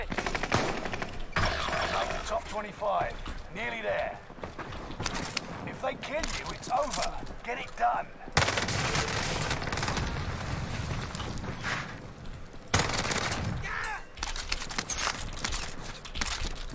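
Gunfire rattles through a Call of Duty Resurgence match on Rebirth Island. Bursts of automatic fire overlap with single cracks at varying distances, and dense volleys break off abruptly into quieter stretches, with voice lines faintly underneath.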